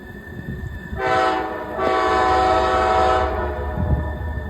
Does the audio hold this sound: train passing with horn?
yes